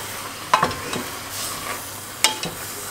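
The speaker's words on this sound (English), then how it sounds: "In the first pot you've got your meat cooking with oil." Meat frying in oil in a pot for lasagne, a low continuous sizzle broken by a few sharp stirring knocks and scrapes, close and fairly quiet, with no voices.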